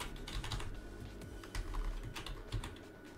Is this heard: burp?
no